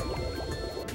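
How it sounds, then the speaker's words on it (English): A game character in Ape Escape splashes into water, a short, soft liquid splash and gurgle with game music droning underneath. "I fell in the water."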